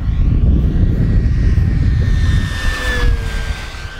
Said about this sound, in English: Give you another fast pass down the runway.